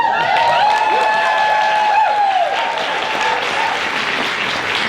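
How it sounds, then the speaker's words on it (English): Loud, steady applause and cheering from an audience at a Russian folk dance performance, with shouts and whistles rising over the continuous clapping throughout. "So anytime Martha or I say the word Linda, we want the audience to applaud and shout out loud for everyone's love of Linda."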